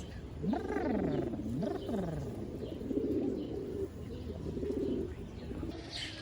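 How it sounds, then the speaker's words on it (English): A flock of pigeons coos close by on a street in San Miguel de Allende, Mexico, with repeated soft rolling coos over steady outdoor background noise. "I've got a flock of pigeons. I got a pigeon next to my foot."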